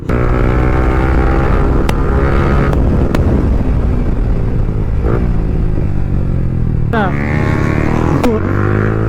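A modified Yamaha R15 motorcycle engine revs hard at full throttle during a wheelie, a loud continuous roar with rising and falling pitch sweeps, heavy wind noise, and someone talking over it.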